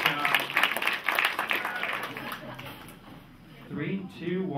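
Crowd cheering and clapping in a room at a college rat basketball game, a steady burst of applause and shouts that fades midway, then voices return near the end.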